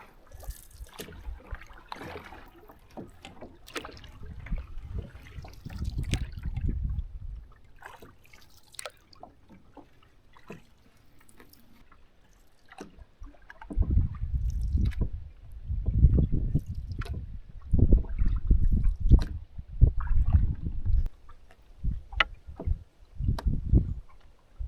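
A canoe carrying a paddler and a dog glides across a Boundary Waters lake with the wind behind it, paddle strokes and water sloshing against the hull in uneven bursts, quiet at first and then louder and more frequent.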